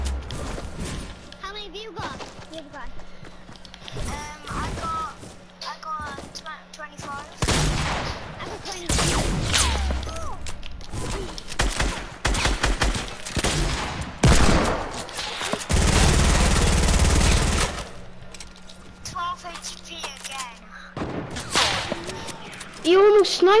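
Sniper rifle fire in a multiplayer shooter game rings out in sharp repeated cracks and loud bursts, with a long sustained roar near the middle, while players' voices chatter underneath.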